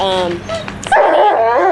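Small Min Pin and Rat Terrier mix puppies at an animal shelter yip and whimper in short, close bursts, with a person talking over them.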